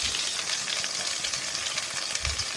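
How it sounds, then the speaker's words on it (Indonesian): Ground spice paste is stir-fried in a wok of oil left over from frying shrimp. A loud, close, continuous sizzle with a faint scrape of stirring, and no talking. "Nah kita masukkan bumbu yang sudah tadi kita haluskan, kita gongsong-gongsong."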